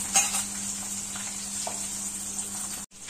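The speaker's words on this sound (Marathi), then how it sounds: "1 कांदा आणि 4 मिरच्या कट करून घेतल्यात आणि तेलात टाकून घेतल्या" Onion and green chillies fry in hot oil, making a soft, steady sizzle with a constant background hum and a brief drop-out near the end.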